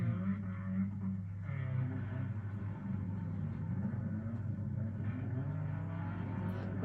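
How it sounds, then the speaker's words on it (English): A Ford Capri races at the Anglesey circuit in 1991, its engine a steady, throaty rumble that holds fairly constant throughout, with no voices over it. "the Capri's still going strong"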